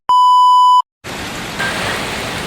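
Steady rain and wind during Typhoon Pepito in Bicol, a loud dense hiss that follows a short electronic beep at the start.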